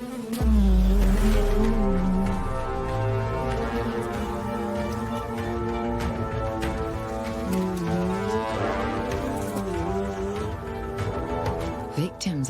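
Hornet flying close to a bee hive, a wavering buzzing drone that rises and falls in pitch as it circles nearby, sustained throughout with a busy hum of other insects around it.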